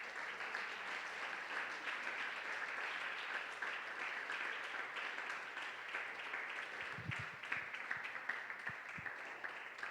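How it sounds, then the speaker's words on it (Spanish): Congregation applause during a Sunday church service, steady distant clapping held at a low level for about ten seconds with a few soft low thumps near the end. "Dele un aplauso al Señor esta mañana."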